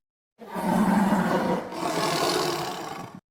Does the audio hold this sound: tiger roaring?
yes